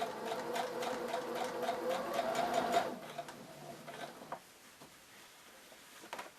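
A sewing machine topstitches fabric for a shoulder bag, its needle chattering in a fast, even run for about three seconds before slowing and stopping, followed by quieter handling of the cloth.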